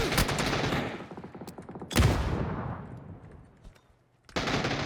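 Bursts of automatic gunfire in the battle royale game PUBG, loud and close, with a long rattling volley, a second heavy burst after a pause, then renewed firing.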